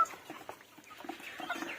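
Sick chickens in a netted coop, soft scattered clucks and small movements heard close but faint, with no one speaking over them.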